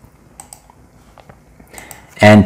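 Light, sparse clicks of typing on a computer keyboard sound in a quiet room, ending with a sudden louder tonal burst.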